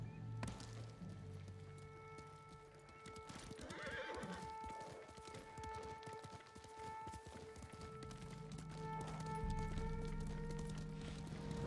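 Horse hooves clip-clop on the ground in the Ghost of Tsushima video game, with a couple of whinnies and neighs over a soft game score, and the hoofbeats grow steadier and louder toward the end.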